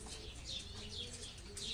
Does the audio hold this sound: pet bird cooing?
yes